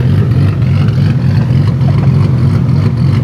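A Nissan R33 GT-R sedan's RB engine idles on a dyno with a loud, deep, lumpy rumble. It pulses with a steady choppy throb, very close and continuous, and no one speaks over it.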